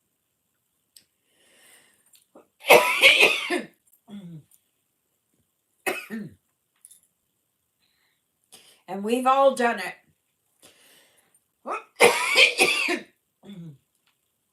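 Two harsh, forceful coughs with some throat clearing, separated by short stretches of someone talking.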